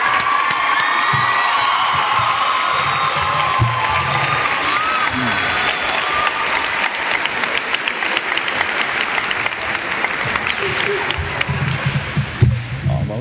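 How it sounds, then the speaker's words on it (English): A crowd applauds and cheers for the graduating class of 2009 at a Lakenheath High School ceremony, sustained clapping with scattered whoops and shouts echoing through a large hall. "Here we have the class of 2009. A round of applause."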